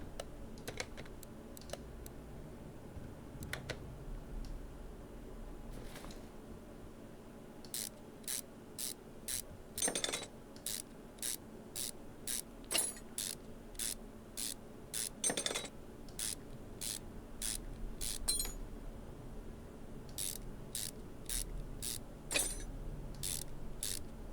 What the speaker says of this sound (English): Let's just remove the damaged spark plugs and leave the other ones.